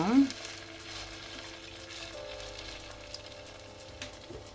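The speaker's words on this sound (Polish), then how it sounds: "wlała do niej oliwę z oliwek i będzie formowała takie kotleciki i smażyła" Zucchini fritters (kabak mücver) frying in olive oil in a home kitchen, a soft, steady sizzle with faint scraping and clinks, quiet and close.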